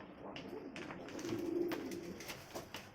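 Soft, low cooing from sick pigeons, weak and unable to walk, a murmuring repeated call over faint background noise.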